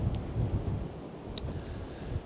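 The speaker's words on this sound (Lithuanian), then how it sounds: "Jetau vėjas." Wind blows by the water during fishing on the Šyša river near Šilutė, a low rumbling gust buffeting the microphone steadily, with no talk.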